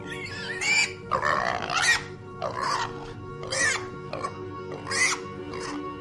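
Loud, repeated shrill pig squeals in short frantic bursts, about five or six in a row, over a faint steady hum.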